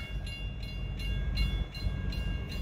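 A Norfolk Southern freight train passes at moderate distance with a low rolling rumble and regular, evenly spaced rhythmic beats from the cars going by.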